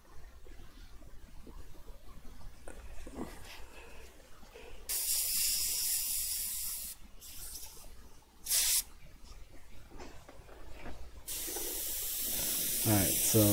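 An airbrush spraying paint gives bursts of bright, hissing air that start and stop in several separate passes, with quieter gaps and some talk between them.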